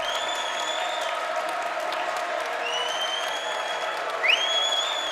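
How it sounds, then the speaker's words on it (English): A home crowd at a high school basketball game in Waukee roars steadily as fans get to their feet, with sustained cheering and clapping and high sneaker squeaks rising over the noise. "Crowd on their feet now here for Waukee."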